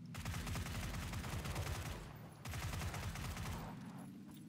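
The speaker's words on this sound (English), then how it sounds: "That's the ump suppressed." Suppressed UMP submachine gun fired in a battle royale style video game: two long rapid bursts of muffled, rhythmic shots, close and loud, separated by a brief pause, with no talking over them.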